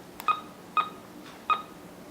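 Three clear DTMF keypad tones from a house telephone, evenly spaced about half a second apart, each a short bright beep over faint room hiss, with no voices.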